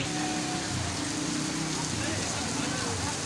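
Heavy rain pours steadily in Taxila, a dense, constant close hiss with no pauses.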